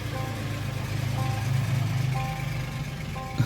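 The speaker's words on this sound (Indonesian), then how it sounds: "aduh sorry, suara motor." A motorbike engine outside runs as a steady low hum behind a room, fairly distant and continuous, with faint tonal whines rising and falling over it.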